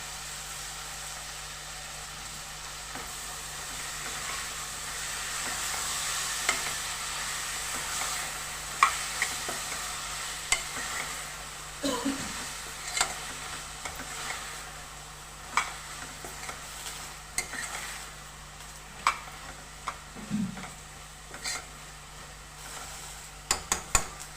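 Mixed vegetables frying in a pan for a Telugu mixed-vegetable curry, a soft continuous sizzle with repeated scraping stirs of a spoon, growing more frequent toward the end, no talking.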